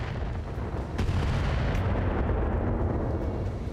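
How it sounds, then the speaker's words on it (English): Weapons fire striking a Cyclops mech in the BattleTech video game with the RogueTech mod, heard as a dense, loud, continuous rumble of artillery-like blasts and impacts with no pauses. "Incoming fire in the Cyclops."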